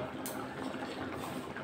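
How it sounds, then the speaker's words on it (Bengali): Paneer and chickpea curry with added water simmering in a pot, giving a soft continuous bubbling hiss, close and low, alone throughout a brief moment. "একটু ফুটে যাক।"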